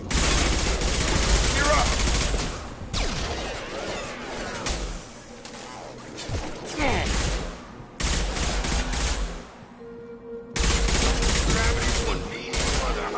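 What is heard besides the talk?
gunfire in the video game Mass Effect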